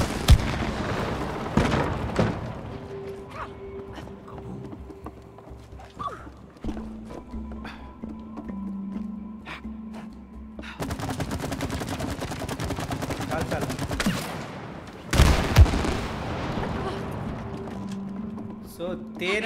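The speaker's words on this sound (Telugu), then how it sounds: "సో తేనని కాలుస్తున్నారు అన్నమాట." Repeated gunfire aimed at sap in the It Takes Two video game, sharp bursts standing out over game music and tones, loudest in two dense stretches midway and near the end.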